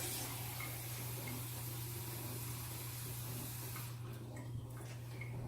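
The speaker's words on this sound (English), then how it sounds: "So we'll grab 1 1/2 cups of water here." Tap water runs steadily into a measuring cup in a kitchen, a constant close hiss and splash with a low hum underneath, easing slightly near the end.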